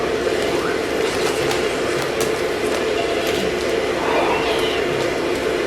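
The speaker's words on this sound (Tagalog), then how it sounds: "I use the vacuum." A household vacuum cleaner runs at home with a steady, unbroken whirring hiss that stays even and fairly loud from start to finish, with no clear talk over it.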